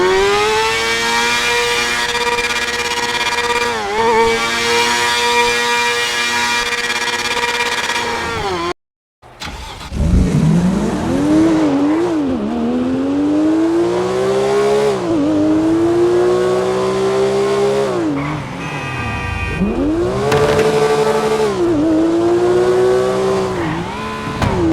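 Car engines in the video game GTA 5, loud sustained revving with rising and falling pitch as the vehicle accelerates, a brief silent gap partway through, then more revving sweeps from the second car.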